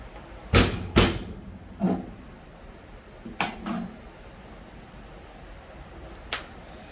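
A knife cuts through air-fried jerk chicken, landing several sharp, loud clacks and scrapes against a plate in irregular bursts, with quieter gaps between them.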